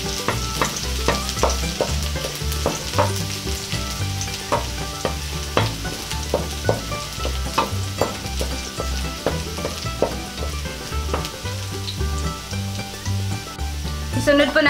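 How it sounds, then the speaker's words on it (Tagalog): Garlic sautéing in hot cooking oil for Bisaya-style bopis, a steady sizzle broken by frequent sharp scrapes and clacks of a spatula stirring the pan, close and fairly loud with no talking. "igisa na po natin yung ating bawang"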